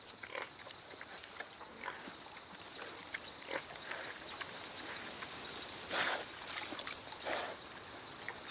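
Wild peccaries snuffle and grunt near water in the Colombian Amazon, their faint, quiet sniffs and soft grunts scattered over a steady background hiss, with no voices.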